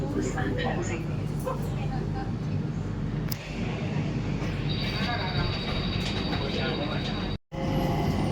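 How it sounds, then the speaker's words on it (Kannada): A Singapore airport metro train running from Terminal 2 to Terminal 1 rumbles steadily along the tracks with a constant low hum and a faint high whine, heard from inside the carriage. "Train is going to terminal 1."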